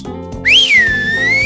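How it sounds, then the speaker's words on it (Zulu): A single loud, close human whistle rises sharply, then holds a long sliding note, used to call goats on a farm. "ngibiza izilwane zami ngishaya ikhwela"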